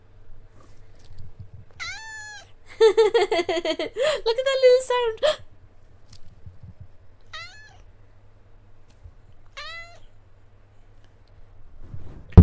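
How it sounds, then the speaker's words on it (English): A cat meows several times in short rising calls, with a longer burst of meowing in the middle, while people talk quietly nearby. "Do a meow. Do a meow."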